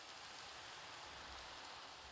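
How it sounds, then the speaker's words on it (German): Rain falling in Minecraft, a steady, soft hiss of dense rainfall with no distinct drops or pauses, faint and uniform throughout. "Wenn es regnet."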